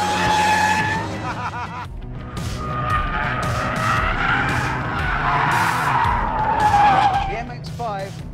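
An Abarth 124 Spider with a limited-slip differential slides through a corner, its tires squealing loudly and continuously over a strained engine note for several seconds.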